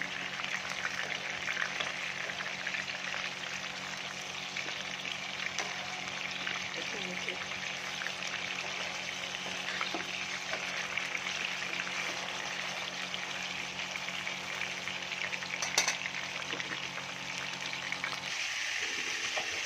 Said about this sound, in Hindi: ये देखिए हमारी फ़िश अच्छे से फ्राई हो चुकी है